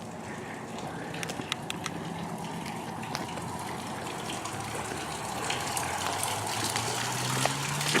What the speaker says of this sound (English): Sounds like we have a drain over here.